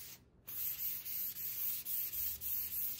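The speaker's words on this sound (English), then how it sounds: "I'm just lightly sanding over this, get out any bumps, and this is a 400 grit" Furniture is lightly sanded by hand with 400 grit sandpaper, a steady scratchy rubbing in repeated strokes with short breaks between them, close up and with no talking.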